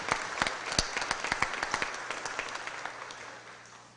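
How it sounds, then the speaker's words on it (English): Audience applause fills a Board of Aldermen meeting room: a dense, steady burst of clapping from many hands that gradually thins and fades toward the end, with no talk over it. "Let's give them a big round of applause"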